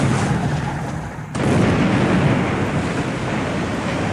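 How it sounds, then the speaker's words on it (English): Naval gunfire in a War in the Pacific strategy game, with destroyers firing counter-battery: a loud, close roar of rumbling blast noise that swells abruptly and then holds as a dense, sustained wash, with no talking. "my destroyers can create some counter battery fire"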